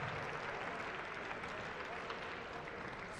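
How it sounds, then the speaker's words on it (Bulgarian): Steady applause from a tennis crowd after a first-round match at the Sofia Open, dense and continuous throughout, with a faint murmur of voices underneath. "Силни аплодисменти"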